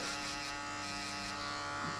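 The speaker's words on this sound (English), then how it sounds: "now we're gonna jump to the shaver. Just shave halfway" An electric shaver buzzes steadily while shaving hair during a mid skin fade haircut at a barber, a close, continuous droning hum with no talk.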